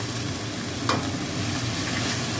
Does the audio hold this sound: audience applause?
no